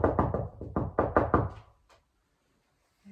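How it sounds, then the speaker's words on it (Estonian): Knocking on a sauna door on Hiiumaa island: two quick series of firm, close raps, about eight knocks in a loose rhythm, then near silence with a faint tap at the end. "koputas keegi niimoodi uksele."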